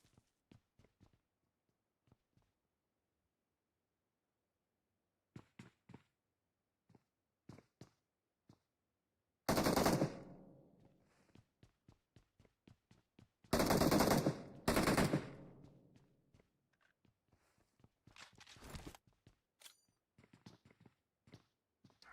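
Gunfire in the PUBG Mobile video game during a tournament scrimmage: scattered single shots throughout, broken by two loud sustained bursts of rapid automatic fire, with faint footstep-like thuds between them.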